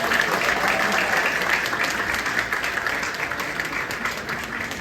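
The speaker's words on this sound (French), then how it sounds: "sous vos applaudissements, s'il vous plaît" Dense audience applause at a gala awards evening honoring a pastor, a loud continuous roar of many clapping hands that holds steady and eases slightly toward the end.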